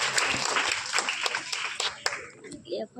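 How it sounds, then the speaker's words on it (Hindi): A live audience claps for a child about to recite a short poem at a school or community function, with scattered hand claps and a buzz of crowd voices over about three seconds, fading near the end. "जोरदार तालियों से इस बच्चे का उत्साह बढ़ाएं।"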